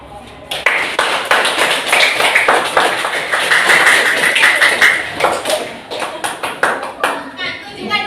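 Students in a classroom clap together, a cluster of sharp close hand claps rising into a brief burst of group applause and then thinning out, with some taps and a few voices around it.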